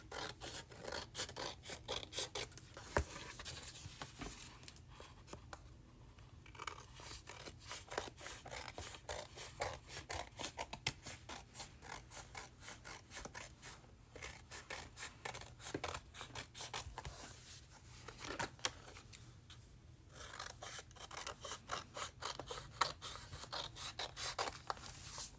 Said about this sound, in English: I'm just gonna go in with my scissors now.